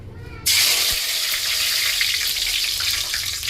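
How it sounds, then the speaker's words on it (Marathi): Curry leaves and a bay leaf hitting hot oil in a home kitchen while making a kokum curry, a sudden loud sizzle that bursts up and keeps hissing steadily, close by and with no talking. "इथे तेल तापलेलं, तर टाकते कढीपत्ता आणि तेजपान"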